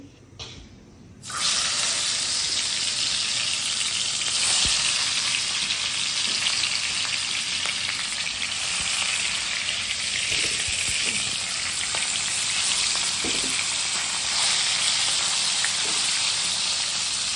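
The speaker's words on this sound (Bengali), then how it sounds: "ফিশটা এখন ভেজে নেই" Rohu fish frying in hot oil, a loud, steady close sizzle that starts abruptly after a brief quiet moment and continues unbroken, with no talking.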